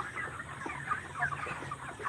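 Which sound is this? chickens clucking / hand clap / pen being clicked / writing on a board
chickens clucking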